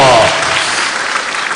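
A conference crowd bursts into applause, a dense close wash of clapping filling the whole short moment, loud and steady without pause.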